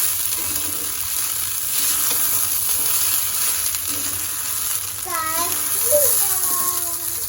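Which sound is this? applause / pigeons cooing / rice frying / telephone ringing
rice frying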